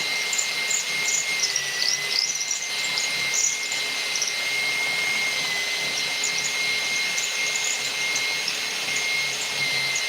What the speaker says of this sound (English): But as I drill